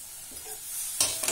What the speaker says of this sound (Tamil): இதுல கொத்தமல்லியும் புதினாவையும் லேசா வதக்கிக்கணும்